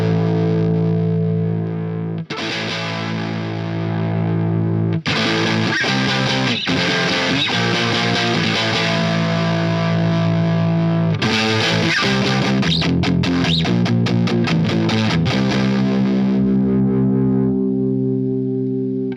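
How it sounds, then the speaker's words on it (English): Electric guitar power chords played through an Iron Horse V3 distortion pedal: loud, heavily saturated chords ring out in sustained blocks, broken by brief gaps and a flurry of quicker strums near the end. "I'll play some power chords and see what happens"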